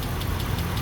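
A Dodge Ram engine idles after a jump start, a close steady mechanical rumble with a fast, regular ticking pulse running through it.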